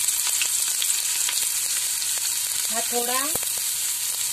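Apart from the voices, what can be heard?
chopped onion frying in hot oil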